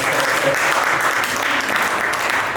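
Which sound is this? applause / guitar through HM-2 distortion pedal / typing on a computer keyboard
applause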